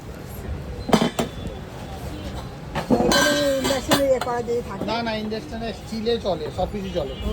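Steel wok clanking and clinking as it is handled in a shop, metallic knocks mixed with other utensil sounds under steady conversation nearby.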